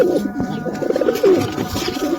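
A restless captive pigeon with eggs coos repeatedly at close range, low rolling calls in a steady run, with faint rustling of movement and no talking.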